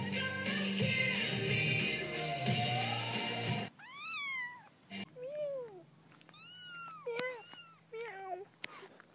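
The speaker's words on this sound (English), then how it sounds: "Helicopter cat meow." A cat meows several times, short wavering cries close by, following a loud stretch of mixed noise and music; a steady tone runs under the later meows.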